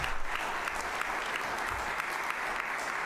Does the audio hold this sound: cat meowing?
no